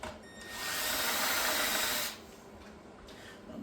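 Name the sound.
drill drilling into an RC car chassis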